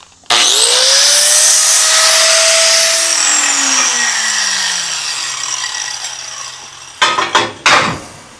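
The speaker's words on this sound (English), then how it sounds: "Grinding disc." Angle grinder with a grinding disc chamfering the cut ends of metal tubing for a Dana 60 axle truss, a loud sustained whining grind that spins down after a few seconds, followed by a few sharp clanks of metal.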